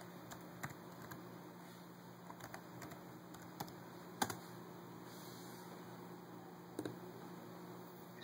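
Faint, sparse keystrokes on a computer keyboard as a command is typed into a Raspberry Pi session, scattered light taps over steady background hiss and hum, no talking.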